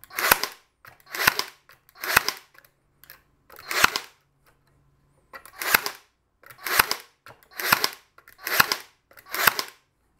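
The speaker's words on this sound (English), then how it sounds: "So I've shot, I don't know, 20 nails" A brad nailer fires nails into wood in a string of about ten sharp, close snapping shots, spaced roughly a second apart with a brief gap midway, and no talking.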